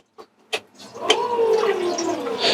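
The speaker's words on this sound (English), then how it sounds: "it also flushes the toilet by running the motor to take the contents of the bowl away" Toilet flushing aboard an Axopar 37 boat, run by a freshwater system motor: two short clicks, then a steady close gurgling rush of water and pump sound that carries on to the end.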